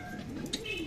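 A brief, soft coo from a sick pigeon, low and murmuring, heard close by in a quiet setting.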